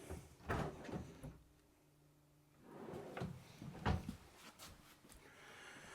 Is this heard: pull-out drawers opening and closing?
yes